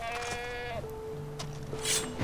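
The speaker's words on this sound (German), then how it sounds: "Ich glaube, das ist eine Ziege, oder?" A goat bleats in Far Cry 4 during a hunt, with a long, wavering nasal call followed by a shorter second bleat, heard clearly over quiet game ambience.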